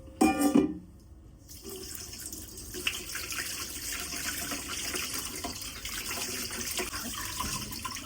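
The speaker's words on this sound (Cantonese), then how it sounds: "就可以放返落個筲箕度沖水" Marinated pork liver in a colander under a running tap: a brief splashy clatter, then a steady close hiss of water that goes on without pause, with no talking.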